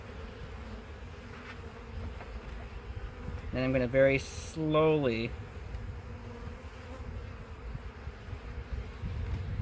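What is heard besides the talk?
buzzing honeybees from a package of bees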